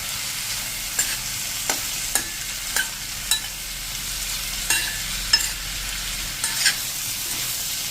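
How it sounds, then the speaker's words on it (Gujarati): Kashmiri red chilli and salt are stirred through hot oil for a raw mango chutney, a steady sizzle broken by regular spoon scrapes against the pan, close and alone without voices. "અને હવે આને આપણે આ રીતે મિક્સ કરી લેશું 1 થી 2 મિનિટ"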